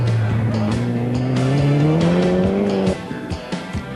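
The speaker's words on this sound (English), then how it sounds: "Thousands of people gathered to watch the cars all try the classic handbrake turn." A 1988 rally car at the Esanda hairpin rises in engine pitch under sustained load with a squealing tone, cutting off abruptly, then fading to scattered knocks and a faint background.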